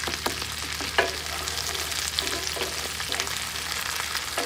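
Chorizo fries in a pan over medium heat, a continuous crackling sizzle with scattered pops and a few stirring scrapes, close and moderately loud with no talking.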